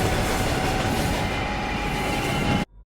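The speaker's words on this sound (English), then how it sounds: "Turns out ghosts can be killed by a ghost train." A ghost train rushes past in the video game Murdered: Soul Suspect, a loud, steady rail rumble with clattering wheels that cuts off abruptly near the end.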